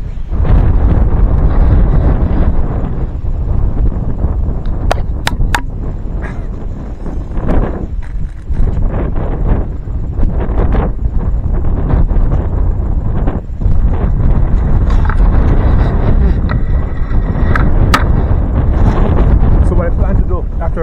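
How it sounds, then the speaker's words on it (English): Strong wind buffets the microphone outdoors at Kelso Conservation Park in a steady, heavy roar throughout, with gusty rumbling and occasional brief crackles. "Also extremely windy."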